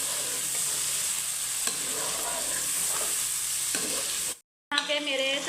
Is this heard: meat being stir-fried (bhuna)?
yes